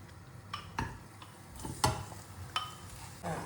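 Chicken rubbed with salt, turmeric and pepper is added to masala in a pan and stirred, giving sparse, fairly faint metallic clinks and scrapes of a spoon against the pan at irregular intervals.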